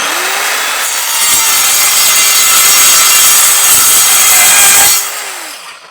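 An Evolution R185CCSL circular saw cuts through wood in one long, loud, steady pass of roughly five seconds, its pitch steady under load before the blade exits and the motor winds down.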